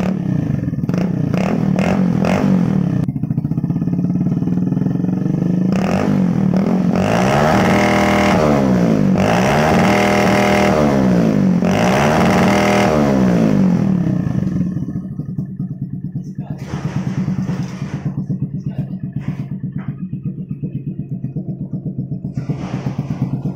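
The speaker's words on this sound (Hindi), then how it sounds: "तो चलिए मैं एक बार बाइक को जो है स्टार्ट करता हूँ, स्टार्ट करते ही आपको साउंड सुनाता हूँ।" A motorcycle fitted with an aftermarket silencer starts in a closed room and revs repeatedly in loud rising and falling bursts, then settles into a steady, throbbing idle.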